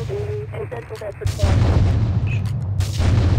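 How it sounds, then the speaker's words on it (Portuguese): A gas explosion in the video game GTA 3, with sustained loud booming rumble and gunfire-like bursts during combat and no speech. "Aproveitamos a explosão do gás para eliminá-lo."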